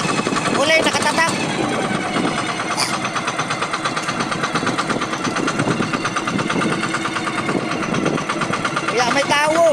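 A pumpboat engine drones steadily out on the sea, a continuous buzzing run of the motor with people talking loudly over it throughout.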